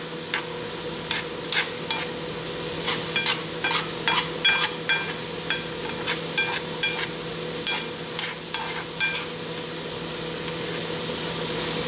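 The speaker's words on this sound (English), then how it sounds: "You can see the teriyaki sauce and everything boiling in there." Tofu simmering in teriyaki sauce in a pan, a soft steady sizzle beneath irregular sharp clicks and scrapes of a utensil stirring, close and without talk.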